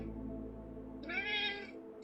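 A house cat gives one clear, fairly close meow after waking from a nap, rising and falling briefly over a low, steady room hum.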